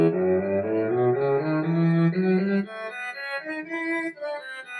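A melodic minor scale moves stepwise up and then back down in clear sustained single notes from a pitched instrument, each tone ringing distinctly, loud at first and slightly softer on the descent.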